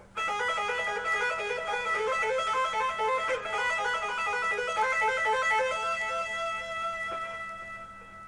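Fast, bright electric guitar notes tapped in a rapid repeating triplet pattern, a continuous cascading run played alone at moderate volume.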